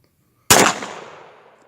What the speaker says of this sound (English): So now we're going to try the 45 pistol.